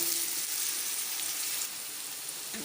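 Poha masala with turmeric being stirred in a hot pan, giving a steady close sizzle and frying hiss with no voices.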